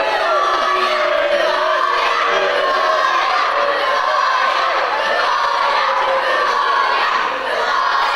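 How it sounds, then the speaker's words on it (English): Wrestling crowd in Swanley jeering and shouting at a singles match, a loud continuous roar of many voices with yells and whoops, steady from start to end. "listen to the crowd here in Swanley getting on the case of the Human Hate Machine"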